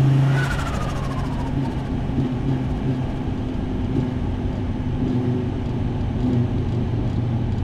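Engine of a 30-year-old car held at steady throttle, a loud continuous low drone with a brief rising whine at the start, no voices.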